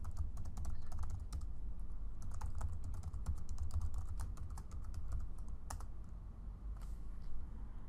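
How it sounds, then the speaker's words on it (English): Rapid, close typing on a computer keyboard while entering an administrator username and password during a ThingWorx 8.4 install on Linux, with quick irregular key clicks and short pauses, no voices. "Now we need to type in our administrator username and password."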